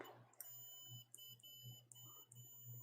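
A continuity tester sounds during a Nintendo Switch repair, giving a run of short, high electronic beeps in a regular rhythm over a low steady hum, faint and close.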